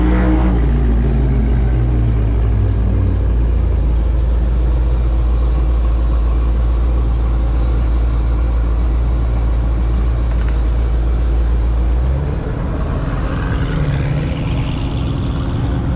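A Jeep Trackhawk sits at a drag strip, its engine idling loud and close with a deep steady rumble that shifts in tone late on as the revs change.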